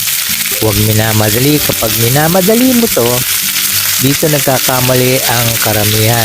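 Galunggong (round scad) fish fry in a hot pan with a steady, loud sizzle throughout while a person talks over it.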